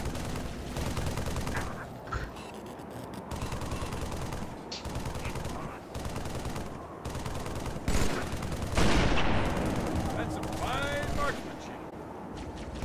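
Continuous battle gunfire in the shooter Halo 3, dense overlapping bursts and volleys mixed with distant explosions and game effects, with voices talking over the fighting throughout.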